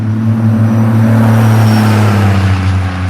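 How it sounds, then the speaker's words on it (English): A loud engine drones steadily and close by, a heavy low rumble with a strong hum that holds for about three seconds with no talk over it, fitting a diesel truck passing. "I love loud diesel trucks."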